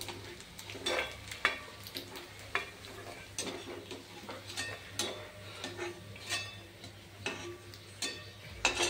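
Soft sizzling and crackling of sago (sabudana) papads frying in hot oil, with irregular clicks and scrapes of stirring. No voices.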